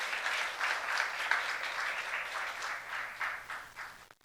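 A church congregation bursts into applause, a dense, fairly faint wash of clapping that swells and fades in waves for several seconds.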